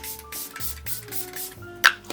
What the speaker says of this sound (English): We also spray this Glow Recipe.